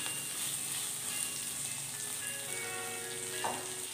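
Onions frying in a pan of oil for a broad bean gravy, a continuous close, even sizzle with a faint scrape near the end; no talking.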